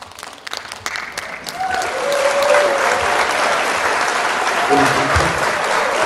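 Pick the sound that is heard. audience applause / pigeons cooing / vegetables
audience applause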